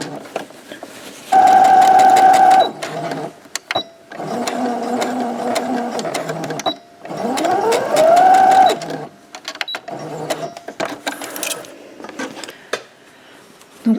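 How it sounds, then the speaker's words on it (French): A sewing machine stitches a fabric pouch in loud close bursts of rapid whirring, several seconds on and then paused, with a rising motor whine in one run and light handling clatter between. "Pour l'instant, on coud sans se préoccuper de rien."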